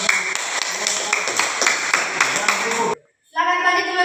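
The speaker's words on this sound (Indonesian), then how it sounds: "kita berikan tepuk tangan" An audience at a school presentation claps in quick, lively bursts for about three seconds, with voices mixed in, before a short pause and a bright tone.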